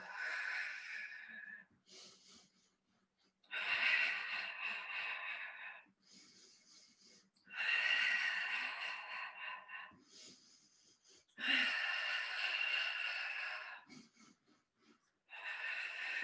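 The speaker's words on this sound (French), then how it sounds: "Une dernière respiration longue et profonde." Slow, deep breaths drawn in and pushed out during a Pilates exercise, several long inhale-exhale cycles with short pauses between, close and breathy with a slight wheeze.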